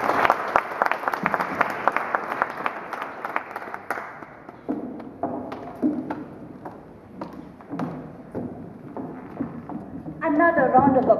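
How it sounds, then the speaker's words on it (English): Audience applause after a speech at a women-in-tech career event: a room of hands clapping in a dense burst that thins into scattered individual claps, with a brief swell of cheering near the end. "Another round of applause for Mary."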